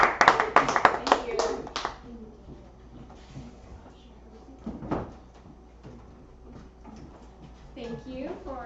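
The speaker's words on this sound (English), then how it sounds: "Let's have a nice warm round of applause, ladies and gentlemen, for Janine Leah." Brief, fairly close audience applause at a benefit comedy show in a cafe fades within about two seconds, after which people talk and move about quietly.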